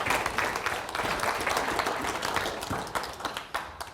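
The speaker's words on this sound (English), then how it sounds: "I think she deserves a round of applause for that." A room of wedding guests gives a round of applause during the reception speeches, a lively wash of claps that holds steady and then begins to fade, with a few louder claps standing out near the end.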